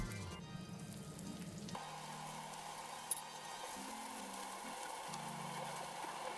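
Cumin seeds and onions fry in hot oil in a Telugu home kitchen while making an egg fry, giving a steady close sizzle throughout, with a brief sharp tick near the middle and no talking.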